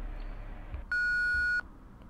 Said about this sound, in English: I don't think we need to tell them about the beep.